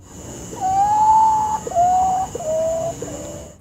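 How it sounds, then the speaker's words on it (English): A potoo calls in long, mournful whistled notes, each a little lower than the last, with a steady high electronic hum behind it. "there are 7 species of these Potu birds, and every species has its own creepy sound"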